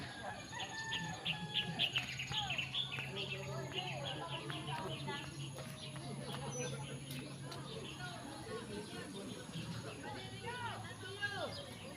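Birds chirping and singing outdoors in a rural area, a steady mix of calls including what sounds like a rooster and fowl, with people talking over them throughout.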